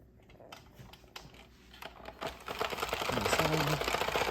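A Sentro plastic knitting machine cranked by hand while making a baby bootie, first a few separate clicks, then a rising run of rapid ratcheting clatter that grows louder and denser toward the end, close up.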